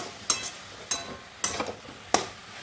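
Cabbage curry with green and red chillies stirred in a pan, four sharp scraping strokes at a steady rhythm over a faint background sizzle.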